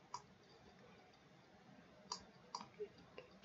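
Computer keyboard shortcut keys are pressed in a few sharp, separate clicks, one early and a small cluster near the end, close and fairly quiet over faint room hum.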